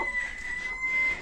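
Hens in a coop of newly acquired Gurk chickens give a steady, fairly faint clucking and murmuring throughout, with a thin sustained tone running over it.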